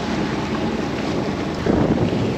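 Gusting wind buffets a sailboat off the coast near Long Beach, a steady loud roar of wind across the microphone with water rushing beneath, swelling stronger toward the end.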